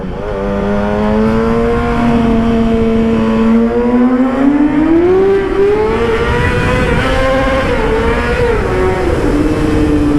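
A Yamaha R6 motorcycle rides into a tunnel, engine loud and close, holding a steady tone before the revs climb sharply as it downshifts, then settle back, echoing in the enclosed space.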